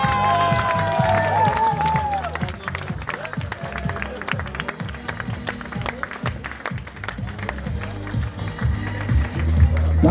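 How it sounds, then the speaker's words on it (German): Crowd applause and clapping rise at the start of the Montafon Arlberg Marathon 2018 T33 trail race, with a steady crowd din and rhythmic thumping underneath, continuous and fairly loud for the whole stretch. "wir bedanken uns ganz herzlich für den Applaus"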